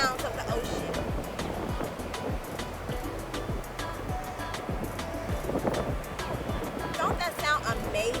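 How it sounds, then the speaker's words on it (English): Ocean waves surge and wash continuously at the shore, a loud, full rumble of surf mixed with gusty wind buffeting the microphone. "just listen to that tranquil sounds of the ocean"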